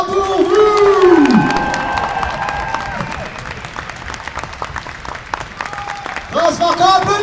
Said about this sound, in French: veuillez l'applaudir encore une fois comme il se doit, les amis